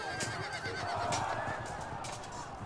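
Horses of light cavalry in the medieval strategy game Field of Glory 2 whinny and snort over a steady mix of battlefield noise and hoof sounds, moderately loud and continuous.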